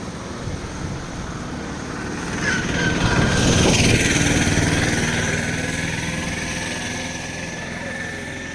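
A tractor with no number plate, used for hauling felled timber beside a roadside in Vizianagaram, runs with a steady engine drone. The sound swells slightly midway, and a voice talks over it.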